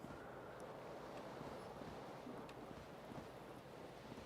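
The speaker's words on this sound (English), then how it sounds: "I hear the ocean." Ocean surf washes in steadily in the Disco Elysium video game, a continuous soft roar of waves with a faint windy hiss and no distinct breaks, heard alone.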